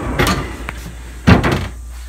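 A door in the entry room of a farm shed bumps shut, giving two knocking thuds with a lighter click between them, close and fairly loud in a small room.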